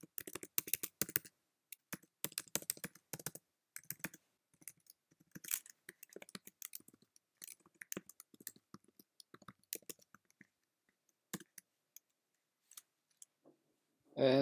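Quiet typing on a computer keyboard, bursts of sharp key clicks with pauses between them, followed by a short louder sound at the very end.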